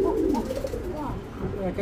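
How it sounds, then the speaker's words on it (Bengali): A pair of Gobindo Koka pigeons coo close by in soft, rolling, throaty phrases, low and warbling, with a voice talking over part of it. "কক কক করতেছে গোবিন্দ কোকা এই পেয়ারটা"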